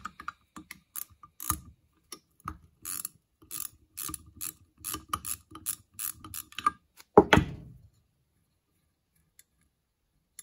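A ratchet socket wrench loosens a part on the carburetor of a 1956 Dodge H6 truck, making close, quick bursts of clicking that end in a louder metallic clunk, then silence.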